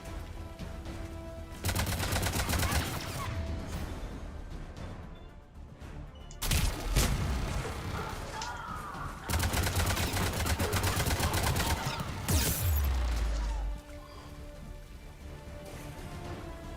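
Turret gunfire in Mass Effect, long loud bursts of rapid automatic fire lasting several seconds each, separated by quieter gaps with lighter rattling and ambient game noise.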